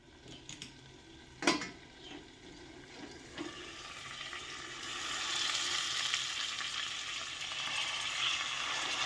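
Food heating in a pan gives off a faint, steady sizzle that swells and thickens midway and keeps hissing, with a few sharp clinks and knocks of utensils early on.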